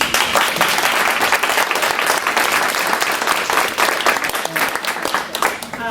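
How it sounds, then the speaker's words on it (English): Audience at a cultural equity roundtable breaks into loud, dense applause that rolls on steadily for several seconds with many hands clapping close by, voices faintly beneath it. "just a sort of preemptive round of applause to Marta"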